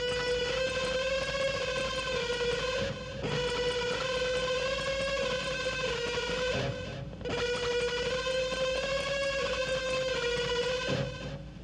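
An electric guitar plays sustained unison bends from a song solo in Kantara, as long held, wailing notes in roughly three-second phrases separated by short breaks, loud and alone.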